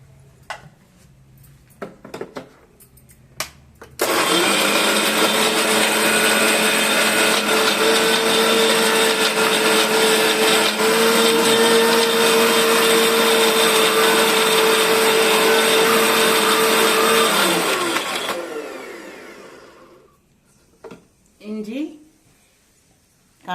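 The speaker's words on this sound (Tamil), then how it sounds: "இது நைஸாக நைஸாக அரைச்சிக்கணும் மிக்சியில் வச்சு" A mixer grinder whirs loudly and steadily for about fourteen seconds, grinding raw ginger chutney with salt, then winds down to quiet; a few brief clatters and light sounds come before and after.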